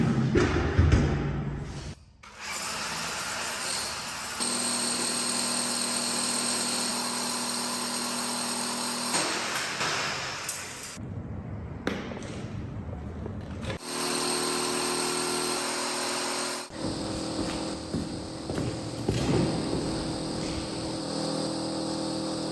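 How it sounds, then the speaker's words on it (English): A loud electric drill bores through a wall, whirring steadily in long bursts, with brief pauses between runs and a harsh, buzzing motor tone up close. "we're gonna drill from the other side into this room"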